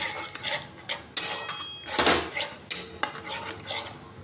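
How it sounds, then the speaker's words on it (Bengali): A utensil scrapes and clinks repeatedly against a pan while whisked sour yogurt is stirred slowly for homemade paneer, a close, irregular series of metallic scrapes and taps. "ফেটানো টক দইটা দিয়ে দেব। যেটা আমি আস্তে আস্তে নাড়তে থাকব।"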